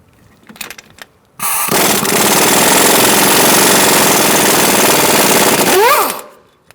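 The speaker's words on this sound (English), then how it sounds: "I'm going to use a 17mm socket and take out this pinch bolt." An impact wrench with a 17mm socket rattles loudly and continuously for about four seconds, removing a pinch bolt on the front strut of a 2004-2009 Mazda 3, after a few brief clanks.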